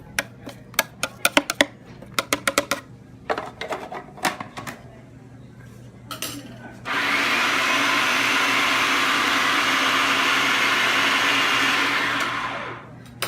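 A small kitchen blender purees a small batch of edamame, starting after several seconds of clicks and taps as the jar is scraped and set. The motor then roars steadily and loudly for about six seconds before cutting off.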